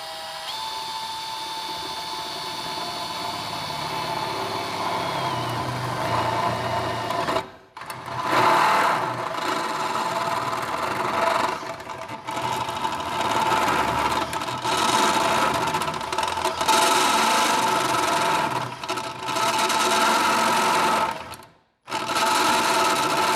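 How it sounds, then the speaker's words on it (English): A drill cuts a 20mm hole through metal trunking, a long continuous high grinding whine with a few brief stops and restarts, loud and close, with no talking. "then we'll start the drilling process"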